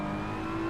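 A race car engine in Assetto Corsa Competizione drones steadily under throttle in a short burst, a continuous close-up engine tone with no talk.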